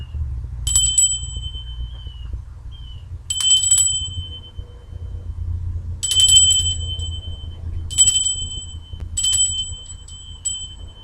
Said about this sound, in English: So when I shake it, I send it out.